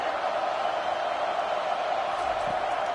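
A home crowd at an American football game roars in a steady, dense wash of cheering that stays loud and unbroken throughout.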